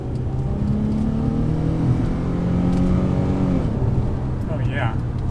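A 2003 Infiniti G35 sedan with a five-speed automatic accelerating up a hilly highway after downshifting, its engine note droning loudly and rising steadily in pitch, heard from inside the cabin while a person talks over it.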